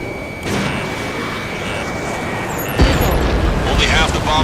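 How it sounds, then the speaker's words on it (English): A fighter jet missile in Ace Combat 7 launches with a sudden roaring whoosh partway through, rising over a constant loud jet-engine rumble, with radio voices in the mix. "Strider 3 launching missile."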